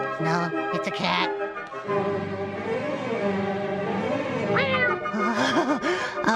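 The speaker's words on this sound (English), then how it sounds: "No, it's a cat." A cat meows repeatedly, drawn-out and wavering, close by, mixed with a person's voice.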